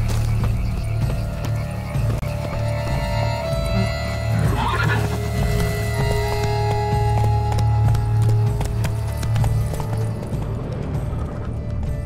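Hooves of Roach, the horse in The Witcher 3: Wild Hunt, clip-clop steadily at night amid game ambience, a continuous low rumble and faint croaking, with no talk.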